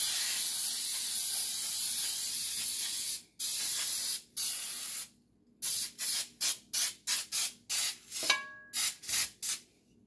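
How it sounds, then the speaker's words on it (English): Cooking spray hisses from an aerosol can onto a 12-inch bundt cake pan, one long close spray followed by a series of short rapid bursts with brief pauses between them. "Make sure you spray it well."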